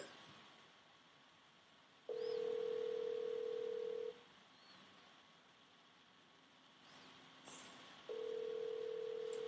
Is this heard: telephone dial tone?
yes